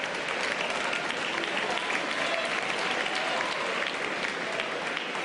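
A comedy club audience claps steadily through a stand-up set, an even, sustained wash of applause from a packed room.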